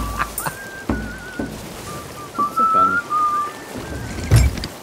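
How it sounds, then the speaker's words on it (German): Whistled tune in the Sea of Thieves pirate game, a few sustained and wavering whistle notes over soft background noise, with people talking casually around it. "Wer pfeift hier?"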